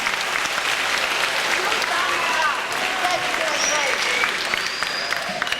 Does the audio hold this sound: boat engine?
no